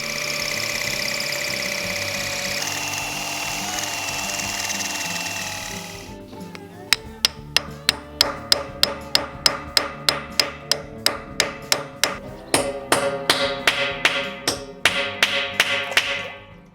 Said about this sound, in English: then we'll try to drill a hole in concrete